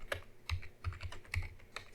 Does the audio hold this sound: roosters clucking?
no